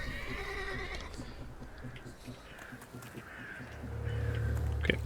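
A horse in the video game The Thaumaturge neighs, a drawn-out whinny at the start followed by shorter calls, with game ambience, bird caws and a low rumble beneath.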